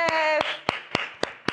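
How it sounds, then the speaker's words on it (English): Bare hands clapping about six times in an uneven rhythm, sharp and close, with a sung or hummed note under the first claps. "I'm clapping for everyone at home"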